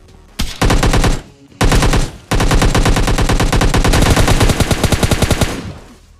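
Automatic gunfire in the mobile shooter game PUBG Mobile Lite: loud, close rapid bursts of shots, a short burst, a brief pause, then a long sustained stream of fire that slows into separated shots at the end.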